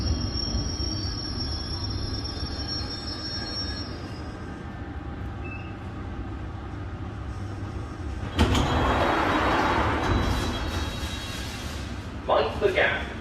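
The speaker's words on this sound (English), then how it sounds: "This is a Hammersmith and City Line train to Barking" A London Underground Hammersmith and City Line train runs with a steady low rumble and grinding wheel squeal, swelling into a louder rush partway through, while a voice speaks over the noise.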